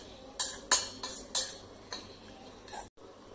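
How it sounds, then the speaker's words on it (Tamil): A spoon scrapes and clinks against a cooking pot while cauliflower and chilli are stirred in water, about half a dozen sharp metallic taps at an uneven rhythm, close and fairly quiet with no talking. "நல்ல கிளறி கொஞ்சம் அவிய விடணும்."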